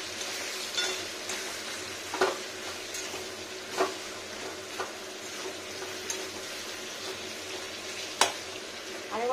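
Papaya and potato curry stirred and fried in a pan, a steady close sizzle with sharp scraping clinks of the spatula at intervals.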